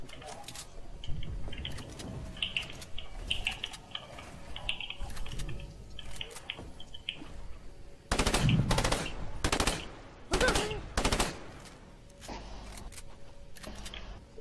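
A weapon fires in the Fortnite video game. Quieter clicking and keyboard-like tapping play first, then several loud rapid bursts of automatic gunfire crackle in quick succession in the middle, over a faint steady background.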